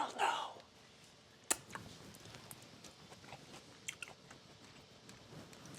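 Soft, close chewing of a thin bite of fish with sauce, faint wet bites and clicks after a brief breathy sound at the start, in a quiet room.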